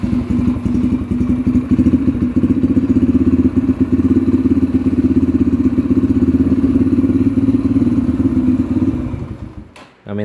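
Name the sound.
Yamaha TTR 125 dirt bike engine idling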